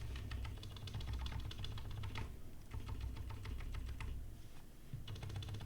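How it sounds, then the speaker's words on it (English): Steady typing on an electro-capacitive keyboard with rubber domes, a dense run of close, even keystrokes with brief pauses and no talking. "The typing is consistent, apart from the saucy sounds, because of the tolerances."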